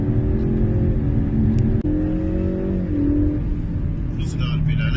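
Ford Mustang engine hums low and steady as the heavy car carries on through a series of curves, a continuous close drone under a voice talking over it.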